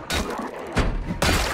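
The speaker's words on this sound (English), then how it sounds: "these three zombies make real quick work of that glass pane" Zombies in the video game Project Zomboid batter and smash a glass window pane: three loud, close, broadband bangs with crashing and shattering texture, each followed by a dense noisy tail, with no voices present.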